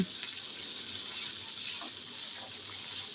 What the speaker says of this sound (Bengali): এবার কিছুক্ষণ ভেজে নেব